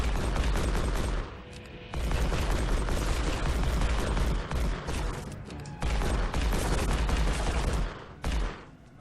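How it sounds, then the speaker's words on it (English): Relentless loud bursts of handgun gunfire in the video game Evil Dead: Regeneration, rapid overlapping shots in dense volleys with only brief lulls between flurries. "I don't know how Ash is reloading his handgun"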